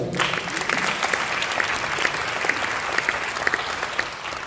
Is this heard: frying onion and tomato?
no